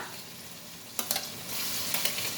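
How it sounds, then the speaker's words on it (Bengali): Fried potatoes and onions being sautéed with chili paste, a low steady sizzle broken by a few quick scraping stirs, faint and close. "আলু আর পেঁয়াজের যে ভাজাটা সেটা কষানো হবে"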